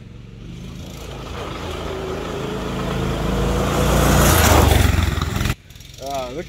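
A Manco Dingo go-kart engine drones and grows steadily louder as the kart approaches on its lap, peaks up close, then cuts off abruptly, leaving a short stretch of quieter sound with a voice.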